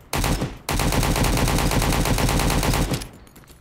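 Stock AK rifle firing in the video game Road to Vostok, two quick bursts of loud, rapid automatic gunfire, close and punchy, the second burst longer and ending abruptly.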